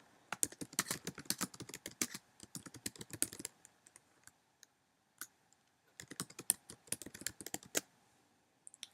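Fingers typing a question on a computer keyboard, close and crisp, in quick bursts of rapid key clicks separated by short pauses, with no talking.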